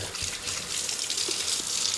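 Hot water runs steadily from a tap into a sink being filled for washing muzzleloader parts, a continuous close hiss and gush of flow with no pauses.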